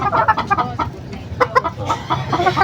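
Hens cluck in quick, uneven bursts close by, several birds overlapping in a busy, chattering rhythm.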